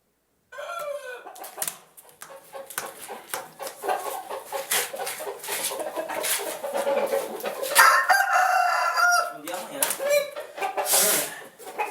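A rooster confronts its own mirror image, heard through a played video, giving loud repeated crows and agitated clucks over a noisy background, with scattered sharp bursts of commotion.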